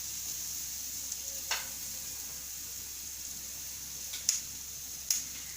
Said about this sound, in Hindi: पहले मैं ऐसे ही थोड़ा फ्राई करूँगी